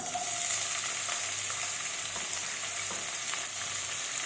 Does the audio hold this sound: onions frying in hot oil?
yes